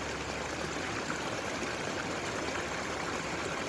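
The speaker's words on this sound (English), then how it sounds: "Perhaps you hear the sounds outside the body, the stream flowing beside me." Steady, close rushing of a stream flowing outdoors, a continuous broadband wash of water with no gaps and no voices.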